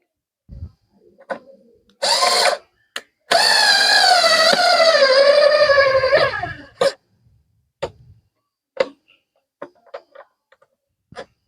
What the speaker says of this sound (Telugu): ఈ రెండు స్క్రూలు ఫిట్ చేసేసుకోవడమే